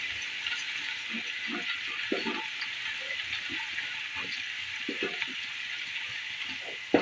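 Whole garam masala spices, including nutmeg and mace, fry in hot oil in a pan for pulao, giving a steady close sizzling hiss with a few soft utensil clinks and a sharp knock at the end.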